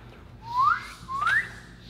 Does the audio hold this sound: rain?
no